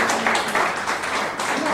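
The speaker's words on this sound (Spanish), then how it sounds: "un aplauso para Isa" A group applauds at a televised event, a brief burst of close, dense clapping lasting under two seconds with voices mixed in.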